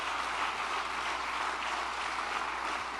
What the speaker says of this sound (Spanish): damos un aplauso de gratitud al Señor